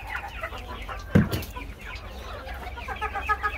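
Chickens and young roosters cluck on a farm, with one loud close squawk in the middle and softer scattered clucks around it against a busy coop background.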